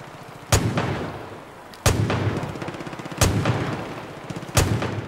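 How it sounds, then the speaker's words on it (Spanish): Four loud, booming gunshots from the video game Far Cry 5, evenly spaced about every second and a half, each with a sharp crack and a rumbling echo that trails off, with no voices. "¿Oís cómo retumban los tiros?"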